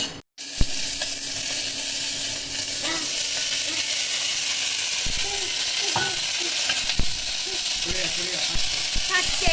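Vegetables (stem pieces, potato, ridge gourd and pointed gourd) with water still on them spit and crackle steadily in hot oil in a home kitchen, a continuous loud sizzle with scattered sharper pops throughout.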